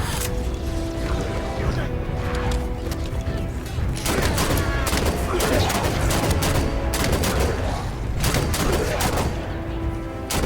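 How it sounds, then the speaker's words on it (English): Pistol fire in Halo 5: Guardians rattles in dense, rapid bursts over continuous loud game noise and mechanical clatter, with a voice talking throughout. "She's shooting her pistol."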